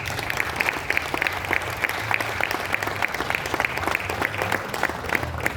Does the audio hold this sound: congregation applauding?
yes